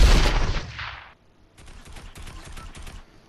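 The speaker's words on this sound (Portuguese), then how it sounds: "aqui no nosso maravilhoso lobby tinha um cara atirando na gente" Gunfire in a Fortnite lobby comes first as a loud burst, then, after a short gap, as a quicker run of lighter rapid shots.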